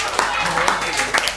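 A class audience at a basic physics lecture claps in a few scattered, uneven bursts, fairly close, while a voice talks over them.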